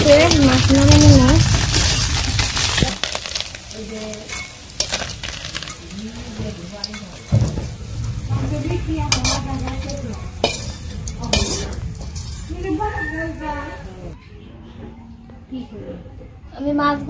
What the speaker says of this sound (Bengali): মাছ ভাজা হয়ে গেছে, মাছ নামে নিলাম।